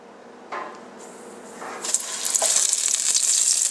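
Battered, floured chicken dropped into hot frying grease for fried chicken, bursting into a loud, steady sizzle that builds and stays strong, with a few soft kitchen clatters at the start.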